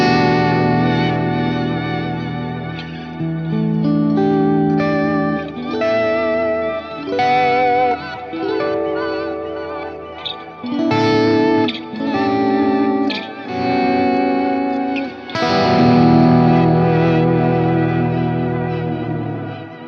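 Electric guitar runs through a Source Audio Nemesis delay and Ventris reverb together, its phrases smeared into a shimmering, echoing texture that swells and dips over twenty seconds, with no speech.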